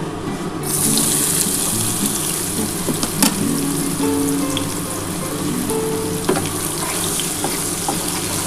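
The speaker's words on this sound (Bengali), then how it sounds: "এই তেলটার মধ্যে এই পেঁয়াজটা আমি দিয়ে দিচ্ছি" Chopped onions hitting hot oil left over from frying katla fish, a steady close sizzle and spatter that holds through the whole stretch with a few sharp clinks of a utensil against the pan.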